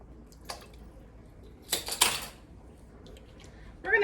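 A spoon stirs pineapple juice, butter and lemon juice in a pot, giving a few scattered clinks and scrapes against the metal, with a louder clatter near the middle and another at the end, over a quiet background.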